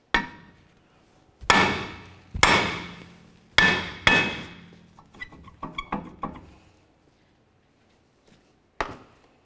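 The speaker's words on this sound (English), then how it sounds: "To remove the rotor, generally you can just use a hammer." A hammer strikes a brake rotor on the rear axle of a 2014-2018 GMC Sierra 1500 to free it. Four loud, ringing metallic blows are followed by a cluster of lighter taps and one last sharp hit after a pause.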